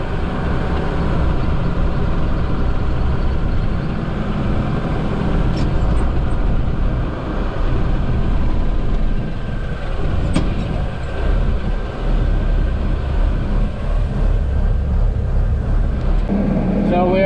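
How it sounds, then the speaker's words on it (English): Tractors rumbling at a school drive-your-tractor day parade, a constant loud low engine drone close by, with some talk mixed in. "So we are getting ready to go around for the tractor parade for the first time."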